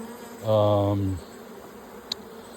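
A single close honeybee buzz inside a hive, a steady harmonic drone lasting under a second, then quiet background with a faint click.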